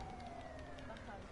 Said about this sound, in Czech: Sanitku!